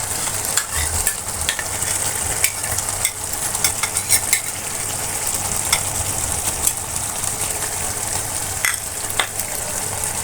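Garlic prawns frying in a pan as ground cumin and pepper go in and get stirred, a continuous close sizzle with soft scraping and small pops throughout, no voices.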